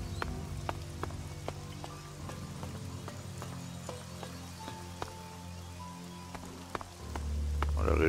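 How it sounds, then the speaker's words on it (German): Rain falling in the ELEX video game: steady patter of drops on surfaces with scattered sharper taps, a low continuous rumble beneath and a swelling low drone near the end, no talking. "Und der Regen hört sich auch sehr entspannt an."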